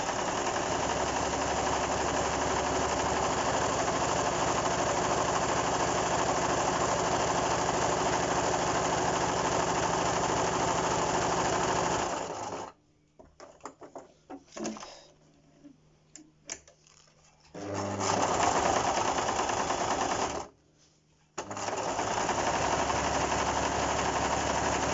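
A sewing machine runs over fabric for face masks with a steady, close humming rattle for about twelve seconds, then stops and starts in short, uneven bursts before running steadily again.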